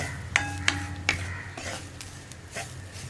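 Grated coconut is stirred in a hot pan, with three sharp metallic clinks of the spoon against the pan early on, then softer scraping and rustling strokes.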